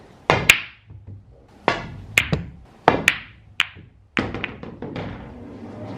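Pool balls on a cabin's pool table knock together in sharp, close clacks, a series of distinct hits with short decays, one after another.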